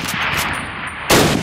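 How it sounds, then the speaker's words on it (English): A Springfield rifle in a Call of Duty training session on PC fires two rounds. The shots are loud, close and sharp, and the second lands about a second after the first, with a short echoing tail. "fire 2 rounds at your target"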